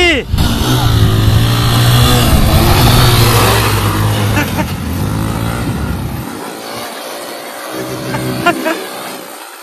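Motorcycle engines racing in a bike racing video game, loud continuous revving and accelerating roar with shifting pitch throughout, dropping slightly near the end.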